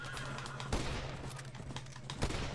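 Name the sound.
gunshots in a video game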